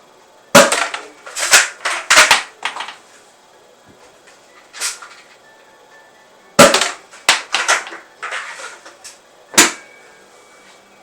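Toy cartridge blasters fire in sharp, loud cracks, two clustered bursts of rapid pops with brief pauses between, some softer clicks mixed in, no talking.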